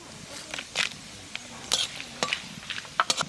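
Cumin seeds, dried red chilli, bay leaf and whole garam masala spices hit hot oil for new-potato dum aloo, giving a close, irregular crackle of sharp pops and spits over a low steady sizzle.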